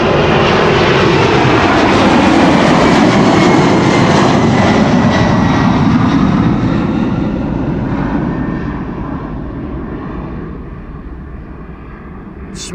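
Twin jet engines of a 32-year-old Boeing 767-300 roar loudly at takeoff thrust from Schiphol's runway 24, a dense broadband blast that holds steady and then slowly fades as the aircraft climbs away.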